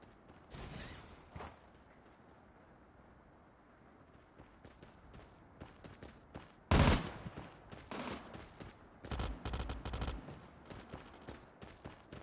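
Burst-fire gunshots in Call of Duty Mobile, loud clusters of rapid cracks separated by quieter stretches of scattered shots, mechanical clicks and movement, with the heaviest bursts in the second half.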